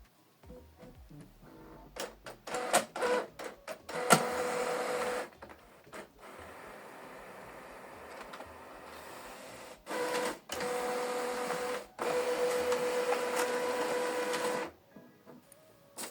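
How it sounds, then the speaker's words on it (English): An Epson ET-4950 printer feeds and scans a document through its automatic document feeder, with whirring motor bursts, clicks and mechanical shuttling, close by, in several separate passes separated by quieter pauses. "Stick the document you want to scan on the ADF, then select scan, select ADF, then select scan."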